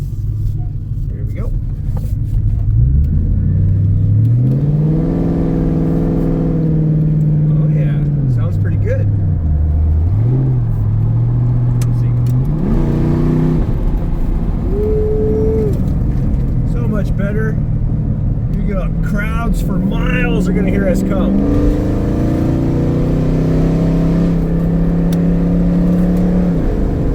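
A car fitted with a cheap aftermarket exhaust revs repeatedly, its engine note climbing and dropping through several pulls in a loud, rumbling drone, with people talking over it.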